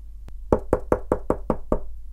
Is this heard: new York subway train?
no